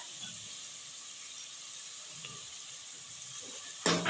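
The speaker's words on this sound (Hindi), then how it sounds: "5 मिनट गोश्त को ऑयल में फ्राई करने के बाद अब इसमें हम शामिल करेंगे अदरक लहसुन कुटा हुआ, और इसके साथ 5 मिनट और भूनेंगे" Mutton chunks fry in hot oil with crushed ginger and garlic, a steady close sizzle running throughout, with a brief louder burst of stirring near the end.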